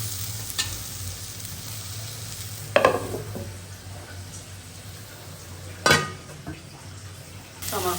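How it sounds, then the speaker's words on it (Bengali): Tomatoes fry in a little oil with a continuous near sizzle. Now and then a utensil stirs or scrapes the pan in short bursts, and no one speaks. "এখানে আমি টমেটোগুলো হালকা তেলে ভাজবো"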